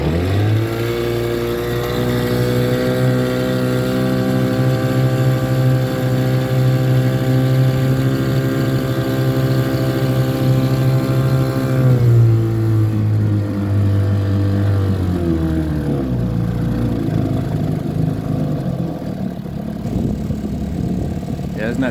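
A 1954 Evinrude 3hp Lightwin outboard pushes a 13-foot Naden boat, its steady droning hum running loud and close throughout, then dropping in pitch as the throttle eases near the end, with wind and water noise mixed in.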